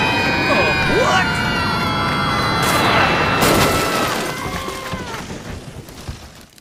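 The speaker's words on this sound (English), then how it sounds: "there's a bomb coming!" A bomb blast in an animated penguin film, a loud booming crash with shattering debris under frantic voices and crowd noise, the rumble tailing off over several seconds.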